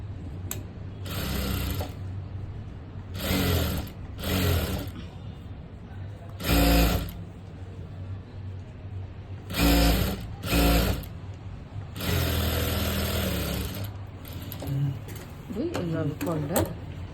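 Sewing machine stitching the lining of a blouse: repeated short bursts of rapid mechanical whirring, some brief and some a few seconds long, alternating with someone talking between the bursts.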